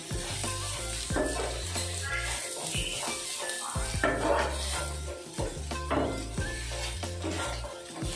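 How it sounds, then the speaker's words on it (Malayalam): Grated coconut stirred into sautéed onions in a pan for semiya upma, a steady sizzle with repeated spoon scrapes and clanks against the pan, while a low rhythmic hum runs underneath. "ഇനി തേങ്ങ ചെറുകിയിൽ ഇട്ട് കൊടുക്കാം ഒന്ന് ഇളക്കി കൊടുക്കാം"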